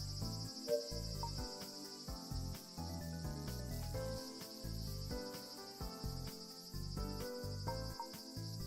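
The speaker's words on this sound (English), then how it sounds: "it's the sound of the cicadas in the game" A constant, high-pitched insect drone of cicadas from the video game Tetris Effect: Connected fills the background, accompanied by steady game music with a rhythmic bass pattern.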